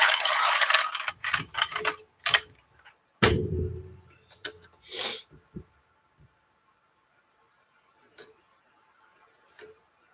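A pencil being sharpened for fine detail work, heard as close, uneven bursts of scraping and clicking that stop and start, then fall to near silence with a few faint taps.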